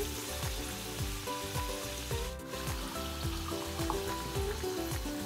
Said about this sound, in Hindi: हमने इसके एजेस को भी अच्छी तरह से फ्राई करना है